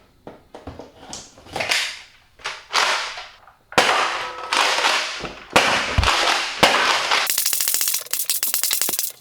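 A Nerf Rival Apollo blaster fires foam rounds over and over, making sharp, loud snapping shots at an uneven pace, some standing alone and some in quick clusters, ending in a rapid rattling run.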